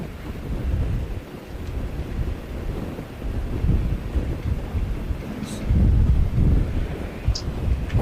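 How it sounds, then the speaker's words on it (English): Gusty wind buffeting a handheld microphone outdoors at Christchurch Airport, a loud low rumbling roar that swells and dips in waves, close and continuous with brief faint higher sounds now and then. "the wind isn't much better up here because I'm standing in a spot where it is funneling right"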